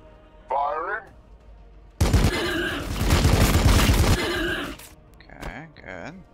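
A Predator tank opens fire in Warhammer 40000 Battlesector, a loud sustained burst of heavy gunfire and booming impacts lasting a few seconds, bracketed by short spoken voice lines before and after.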